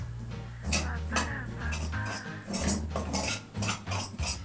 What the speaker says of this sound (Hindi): अब मैं इसमें घी में ये डबल रोटी पूरी डाल रही हूँ और इसको मैं भूनूंगी 2 मिनट के लिए